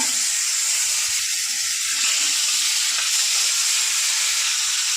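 Fish sizzles steadily in a very hot wok, a close, continuous hiss and crackle of frying oil with no talking.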